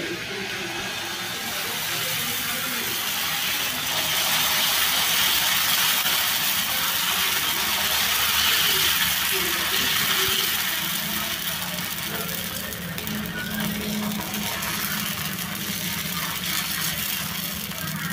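Uttapam batter hits a hot pan and sizzles in a loud, steady hiss that keeps going without a break, with a low hum underneath.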